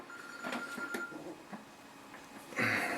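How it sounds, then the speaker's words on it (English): A telephone rings with a couple of faint electronic bursts, followed by a brighter louder tone near the end, with no talk over it. "Sorry about that, got a quick phone call."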